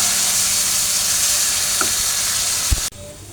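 Potatoes fry in a spiced pan of turmeric, chili and garam masala powder, giving a loud continuous sizzle with a couple of scraping stirs near the end before it cuts off abruptly.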